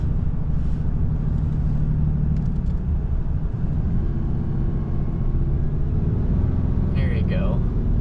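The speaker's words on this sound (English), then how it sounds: "You can just feel that exhaust brake just holding us back." Ram 3500 pickup with a high-output Cummins diesel and its exhaust brake engaged, giving a steady, loud low rumble and drone from the engine and exhaust throughout, with someone talking over it.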